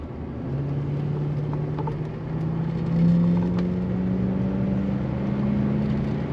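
A 1990 Cadillac Brougham with a 5.7L V8 accelerating, a low steady engine drone whose pitch rises gradually as the car gathers speed, heard from inside at a moderate level with no talk.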